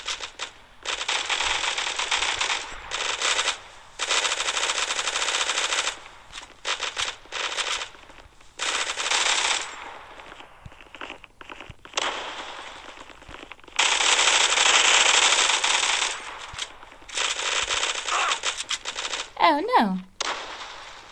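Rapid automatic gunfire from the mobile FPS game Zula Mobile 3D comes in repeated bursts of varying length, separated by short gaps. A brief voice or effect sweep follows near the end.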